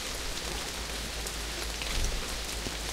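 Rain falls steadily in the Castle Meister video game, a dense, even hiss of drops with a faint low rumble underneath, constant and moderately quiet with no voices.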